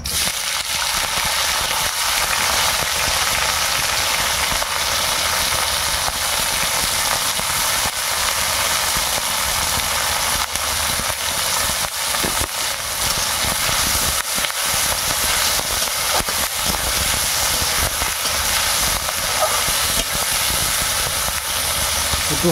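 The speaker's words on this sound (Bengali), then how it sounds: "বরবটি ভেজে নেব।" Long beans (borboti) frying in hot oil for a village-style Bengali labra: a steady, loud, continuous sizzling hiss that fills the whole stretch without letting up.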